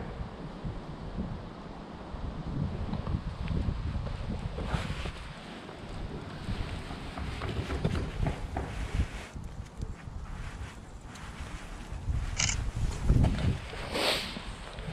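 Steady wind blows outdoors along a roadside walk, a continuous broadband rush with gusts swelling and easing near the microphone, no talk.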